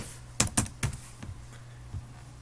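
A few quick keystrokes on a computer keyboard, three sharp close clicks in rapid succession followed by a couple of softer taps over a quiet background hum.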